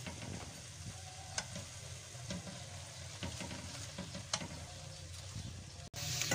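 Boiled potatoes, carrots and other vegetables stirred together in a pan for mixed sabzi, giving a steady soft sizzle with faint scraping ticks, close and alone.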